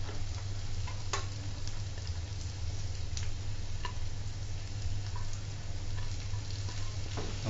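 Onion frying in oil in a pan for seafood pancit canton, a steady soft sizzle with occasional small pops and ticks, close and continuous with no talking.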